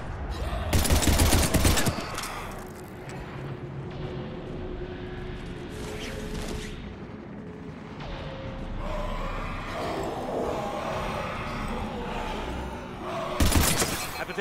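Gunfire during a Mass Effect 3 firefight, a dense burst of shots up front and another near the end, with a continuous rumble of battle and effects between them.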